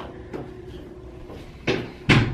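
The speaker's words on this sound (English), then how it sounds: "I'm gonna close the door just in case." A door being shut at home near a running washer: a few soft knocks, then two sharp, close clacks as it latches, over a low background hum.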